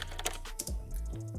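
Computer keyboard typing, used as a sound effect with a light reverb and echo: a quick run of clicky keystrokes with a short tail after each hit, close and clear, no voices.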